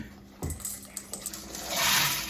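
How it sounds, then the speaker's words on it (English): Black beans drop into an Instant Pot of water in a few quick clattering bursts, followed by a brief pouring rush near the end; close and moderately loud, with no talking. "And now the beans."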